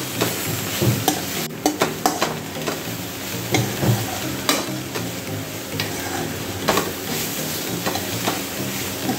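Mixed vegetables, cabbage and capsicum, are stirred in a pan, with irregular scraping and tapping spoon strokes over a low, constant sizzle, close up and without voices.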